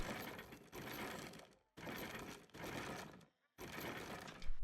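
A strongbox cylinder mechanism being lowered in the video game Crimson Desert, with three sustained mechanical grinding, ratcheting passes separated by short silences.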